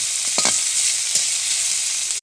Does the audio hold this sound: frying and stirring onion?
yes